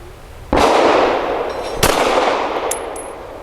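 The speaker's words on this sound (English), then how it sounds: "Five shots of Nosler ASP 115 grain from 7 yards on the right circle square for my practical accuracy." Shots from an Arex Delta X pistol firing Nosler ASP 115 grain ammunition at 7 yards: two loud, sharp cracks about a second apart, each trailing into outdoor echo, followed by faint metallic clinks.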